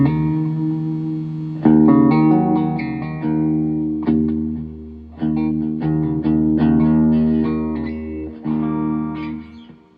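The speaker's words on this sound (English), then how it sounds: "spring reverb is very nice" A guitar amplifier's spring reverb on clean, loud tones: a series of picked notes and chords, each ringing out with a shimmering, decaying tail before the next attack. No talking.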